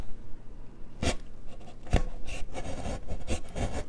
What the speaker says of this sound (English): So let's cut out a little rectangular hole in the back.